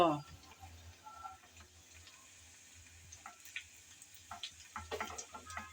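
Chopped garlic and two dried red chilies frying in a little oil for a jute-leaf greens dish, a soft low sizzle with scattered small pops and spoon taps that grow busier toward the end, someone speaking over it at the start.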